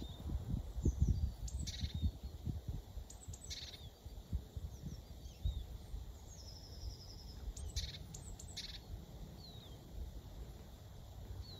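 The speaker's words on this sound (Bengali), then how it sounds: "হাওয়া বইছে, পাখিদের আওয়াজ" Small birds chirp in a series of brief, high, scattered tweets outdoors, fairly faint and distant, over a low, gusting rumble of wind.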